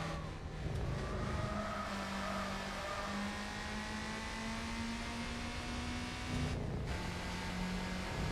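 A compact car's engine in Gran Turismo 4 revs and drones steadily, its pitch sliding and stepping as gears change and speed builds, loud and continuous with a whirring tone and no voices.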